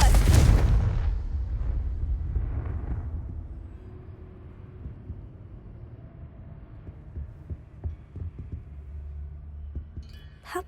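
A Confringo spell blast in Hogwarts Legacy: one loud, booming explosion at the start that rumbles and decays over a few seconds, followed by quieter low thuds and ambient hum.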